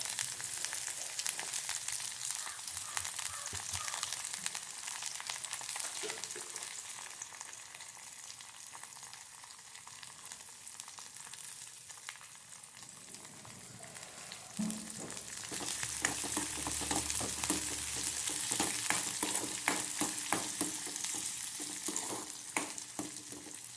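Onion, dried red chillies and curry leaves crackling in hot oil, a continuous close sizzle with stirring scrapes that swell louder midway and stay busy to the end.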